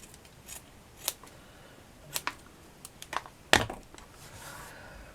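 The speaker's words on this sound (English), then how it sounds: "Right, I'm going to cut some felts." Scissors trimming the edges and corners of craft felt for a flower canvas, a few separate soft snips and crunches spaced irregularly, close and fairly quiet with no talk.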